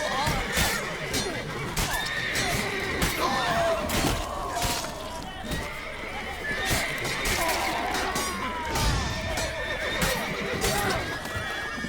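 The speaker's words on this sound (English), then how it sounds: "Shush, horses." Horses neighing and whinnying repeatedly amid clattering hooves and a busy, clashing soundscape in the video game The Witcher 3, with voices mixed in.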